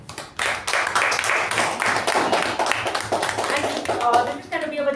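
A meeting audience claps for the Toastmaster, a brisk round of many hands with distinct individual claps, steady throughout and thinning near the end as a voice begins speaking over it.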